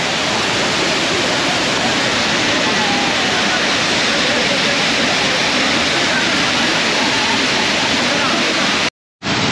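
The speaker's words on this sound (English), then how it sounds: "So let me go closer to you and show you the waterfall." Constant roaring rush of the 50-meter-high Thiruparappu waterfall, loud and broadband, heard close up without a break until a momentary cut near the end.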